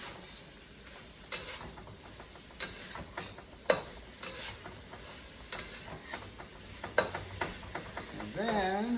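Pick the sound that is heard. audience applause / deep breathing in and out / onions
onions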